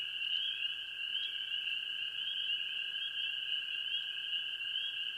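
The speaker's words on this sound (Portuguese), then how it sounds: "Entre os protagonistas deste cenário está a rã flecha azul, um pequeno e vibrante anfíbio encontrado nas florestas tropicais da América do Sul" A blue poison dart frog calls at night in the Amazon rainforest, a steady continuous high trill that runs unbroken over a faint background hum, with no voices.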